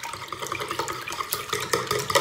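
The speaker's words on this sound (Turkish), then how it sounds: "Hemen bunu şöyle bir çırpacağız" Salty cheese filling for börek being whisked in a bowl, a steady wet stirring and clicking with irregular taps, close and fairly loud with no talking.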